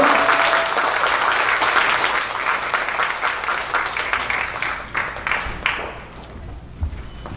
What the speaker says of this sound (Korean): 우리 한번 뜨거운 박수로 한번 다시 한번 정리해 주시기 부탁드리겠습니다